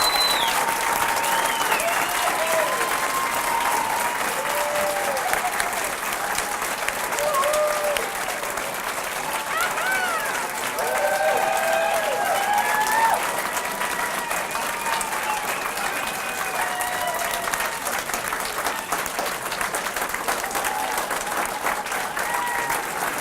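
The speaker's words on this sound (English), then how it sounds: "We'd like to give you one more round of applause." Sustained applause from an audience at a 2019 RN nursing pinning ceremony, with dense steady clapping throughout. Several voices and cheers come through on top of it.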